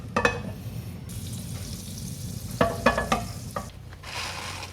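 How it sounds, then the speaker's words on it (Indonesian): Margarine melting and sizzling in a heated Teflon pan, a soft steady fry hiss broken by a few sharp clinks and scrapes of a utensil against the pan. "Ini panaskan wajan, biarkan margarinnya mencair."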